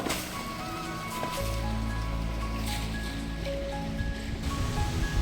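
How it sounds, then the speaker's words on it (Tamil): Steady rushing borewell water, pumped from a 650-foot bore by a submersible pump, pours and splashes into a tank, loud and close, with a low motor hum running underneath and no talking. "ரெண்டு போருமே தண்ணி எடுத்து விட்டிங்கன்னா பாருங்கள் இந்த தொட்டியில் வந்து விழுந்துருங்க"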